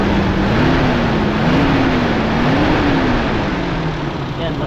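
A Toyota 5K engine with advanced ignition timing runs loud and close, a dense rumbling drone whose pitch wavers slightly up and down, with someone talking over it.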